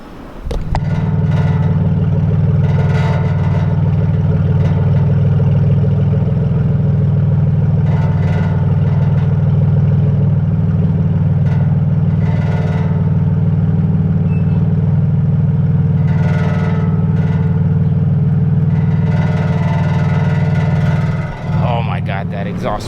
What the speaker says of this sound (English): let's get the cold start for the boys